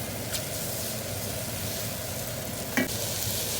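Rice and carrots sizzling and being stirred in a hot pan, a constant frying hiss with a brief scrape of the utensil near the end.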